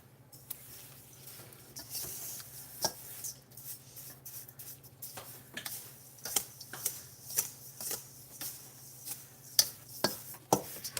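Rose petals are stirred into bath salts, a gritty, crunchy scraping with rhythmic strokes that grow sharper and more regular toward the end, faint and close, with no talking.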